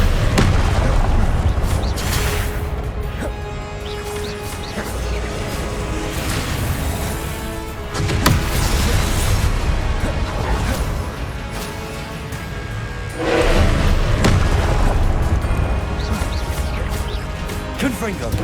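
Repeated Confringo spell explosions from the video game Hogwarts Legacy, loud crashing booms arriving in bursts at intervals among constant battle noise, with voices shouting over the top.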